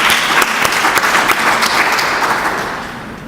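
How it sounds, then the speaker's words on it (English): Steady applause from an audience at an art museum reception fills the space, dense and loud, then slowly fades toward the end. "So please join me in applauding all of our efforts for that great accomplishment."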